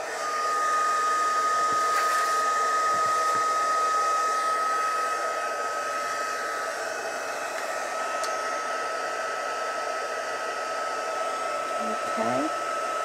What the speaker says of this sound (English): I'm just going to heat and emboss that